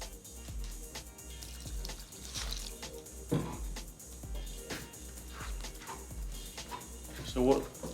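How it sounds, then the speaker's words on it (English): Water splashes and trickles into a bowl of grape molasses mixture, with drips and pouring sounds at moderate level beneath people talking in a kitchen. "we'll add the water"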